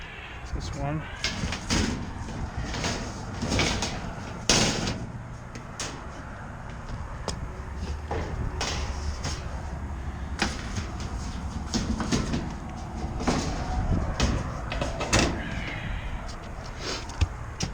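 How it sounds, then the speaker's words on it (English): Metal access panel doors are fitted back onto a commercial rooftop heat pump, giving repeated sharp clanks, taps and thumps at irregular intervals over a steady outdoor hum. "I'll put some of these other doors back on."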